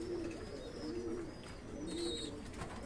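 Soft, repeated cooing from a pigeon, heard as several low rolling coos close by with brief chirps and quiet ambient noise between them.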